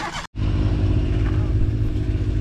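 A CF Moto utility vehicle with its engine and radiators mounted at the back, on a farm in the Dominican Republic, revs loudly and continuously up close after a brief cut-off.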